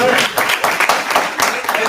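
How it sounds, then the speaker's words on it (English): An audience at a ribbon-cutting ceremony claps for an honoured guest, a brief burst of close, lively applause from a modest crowd with individual claps audible. "give him a round of applause, please"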